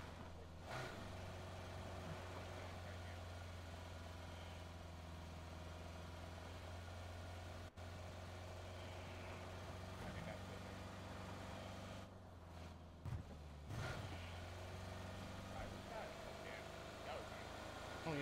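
In the PUBG video game, a car fitted with a NOS boost drones with a steady, low engine hum that runs throughout, with only small dips near the end.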